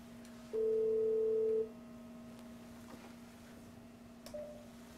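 A single steady electronic ring tone sounds for about a second on a test call through a Cisco CUBE voice gateway, set against a constant low hum, then quiet follows.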